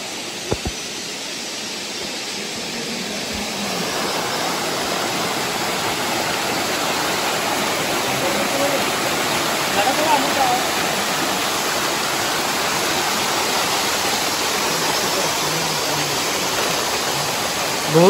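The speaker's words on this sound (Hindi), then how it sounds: "आम तार छोट वाटरफॉल पाखे पहुँची जाइचु" Khajuribani, a small waterfall in Keonjhar, pours in a dense, steady rushing roar close by, filling the whole span without letup.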